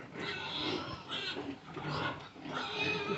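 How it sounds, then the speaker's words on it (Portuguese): Free-range pigs in separate pens on a small farm grunt and snuffle in a fairly faint, continuous jumble of low animal noises. "Vou virar a câmera dos porcos."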